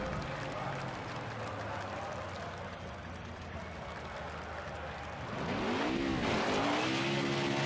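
A race car in NASCAR Heat 5 does a dirt-series burnout, a continuous engine roar that swells into loud, wavering tire squeal near the end, with no talk over it.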